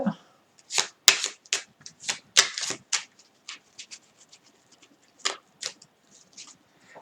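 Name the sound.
shuffling a deck of 54 playing cards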